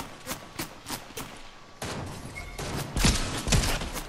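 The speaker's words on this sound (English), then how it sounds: "Oh, I'm getting shot at." Rapid bursts of gunfire aimed at the player in a Fortnite Zero Build duos match, several sharp shots spaced through the first seconds, then denser, louder volleys and thuds building toward the end.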